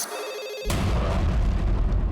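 A telephone's electronic ring tone sounds briefly and steadily, then is abruptly swamped by a loud, rough burst of broadband noise that continues to the end.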